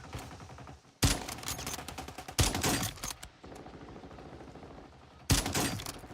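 Automatic gunfire rings out on the Fortune's Keep resurgence map in Call of Duty Warzone, with three loud, close bursts of rapid shots separated by quieter gaps.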